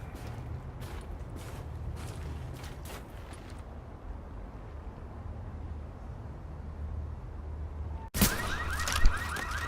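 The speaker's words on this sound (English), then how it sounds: "So we wanted to see how the car alarms would be if we just went ham." A car alarm wails in the game The Division, overlapping with sharp bursts of gunfire early on, then a lower droning stretch before a sudden loud blast and renewed alarm tones near the end.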